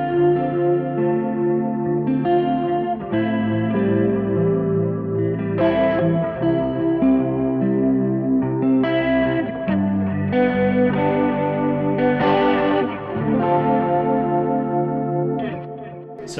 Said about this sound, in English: So still got the ambient reverb on, delay, and just added some chorus vibrato to it